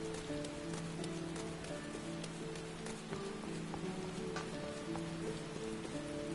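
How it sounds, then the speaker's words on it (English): Steady video game rainfall in Final Fantasy XIV patters continuously on a surface, with a constant hiss and dense drops throughout, no voices. "Raining outside the canvas, not inside the canvas."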